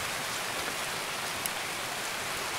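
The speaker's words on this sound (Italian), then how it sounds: "è iniziato a piovere fortissimo" Dense, steady downpour in the video game Escape from Tarkov hisses evenly throughout, a continuous wash of heavy rain with no voices.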